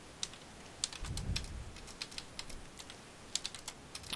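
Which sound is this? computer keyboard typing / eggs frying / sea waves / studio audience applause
computer keyboard typing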